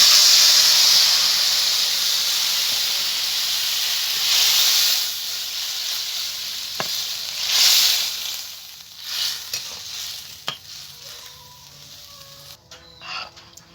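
Curry hits a hot pan with a loud steamy hiss and sizzle that gradually settles into softer frying, with a few spoon clinks and stirring scrapes near the end, and no voices.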